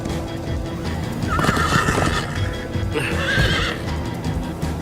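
A Minecraft Story Mode horse neighs twice in quick bursts over a steady rumbling background of hoofbeats and motion, loud and close.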